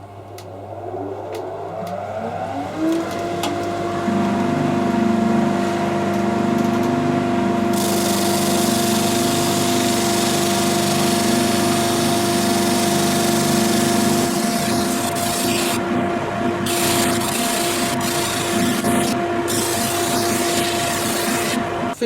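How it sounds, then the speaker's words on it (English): A workshop dust collector starts up and runs with a loud, steady mechanical drone and whine while a router cuts an MDF pickguard template nearby, the noise continuous for about twenty seconds. "I'm going to run the dust collection to try and keep the dreaded MDF dust out of the way"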